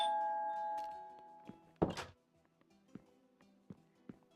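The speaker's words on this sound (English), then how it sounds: "It has a doorbell." A Minecraft doorbell gives a ringing, fading tone, followed by a sharp click and then a few soft clicks and thunks spaced out across a quiet stretch.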